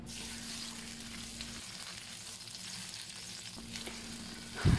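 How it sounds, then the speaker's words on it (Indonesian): Kaffir lime leaves sauté in a little oil in a home kitchen, producing a soft, continuous sizzle and crackle heard close but faint, ending with a brief clatter. "lembar daun jeruk, diremas-remas lalu kita masukkan ke minyak sedikit ya. Kayaknya ditumis gitu biar aromanya itu keluar gitu."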